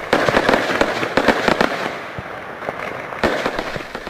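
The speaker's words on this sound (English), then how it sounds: "The crackers, having a lot of sound and blinding colors, announce its origin as China in no uncertain ways." Chinese firecrackers bursting in quick, irregular crackling volleys, loud and close, with a brief lull before another burst of bangs.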